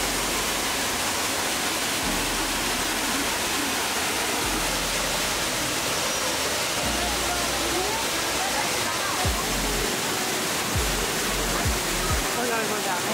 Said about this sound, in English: And the waterfall is right there.